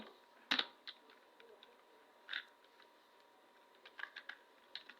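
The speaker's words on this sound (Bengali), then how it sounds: "তো এখানে লিখি জামাল খান" Light, irregular typing on a computer keyboard while entering text into an MS Excel message box, with soft scattered keystrokes and a few louder clicks over a quiet steady hum.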